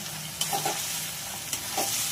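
Spice masala with fried potatoes being sautéed in a pan, a low steady sizzle with a few soft stirring scrapes, brief and close.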